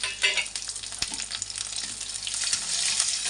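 Garlic, green chilli and chopped onion crackle in hot mustard oil with cumin seeds, a close, steady sizzle with a few sharp spatula knocks and stirring sounds.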